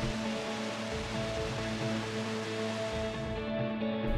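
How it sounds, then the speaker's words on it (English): Burney Falls waterfall in the Shasta area of California, a steady rushing roar of falling water heard at a distance, continuous and even, with some faint tonal hum layered over the wash. "This waterfall is not to be missed if you're in the Shasta area."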